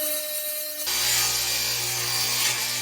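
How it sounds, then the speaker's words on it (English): A table saw rips a sheet of 1/4 inch plywood, the blade's steady whine jumping into a loud, sustained cutting roar partway through, close and continuous with no talking. "So I'll start with ripping down this 1/4 inch plywood."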